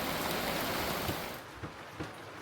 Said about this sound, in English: it is a nice rainy afternoon here in Bahia Honda